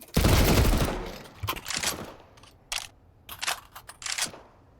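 Gunfire in Counter-Strike 2: a loud opening burst followed by several sharp, spaced single shots and short volleys, close and punchy.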